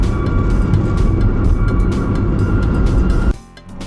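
A car rolls through a landfill on the way to a household waste drop-off, steady loud interior road and engine rumble for several seconds before the noise abruptly drops as the car slows.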